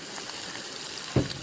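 Dried red chillies sizzle in hot coconut oil for tempering, a soft, steady frying hiss with one brief louder pop near the end.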